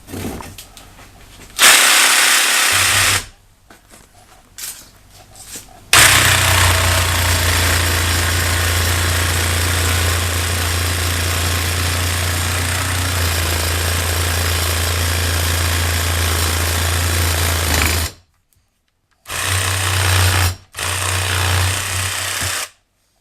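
A jigsaw cutting wood for rustic door pulls, a loud, steady buzzing drone that runs in bursts, stopping and restarting several times with short silent gaps between runs.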